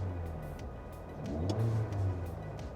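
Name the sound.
car engine revving as gas is applied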